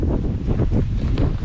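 Strong, gusty wind buffets the microphone outdoors at Dunnottar Castle on the Scottish coast, a loud continuous low roar with rhythmic surges and no voices.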